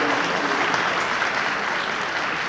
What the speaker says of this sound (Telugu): గట్టిగా ఒకసారి చప్పట్లతో శ్రీనిని అభినందించాలి.